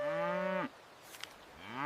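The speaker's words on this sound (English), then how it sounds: "C is for cow." A cow moos in one long, loud, close call, which breaks off and is followed by a brief quiet and then the start of a second moo.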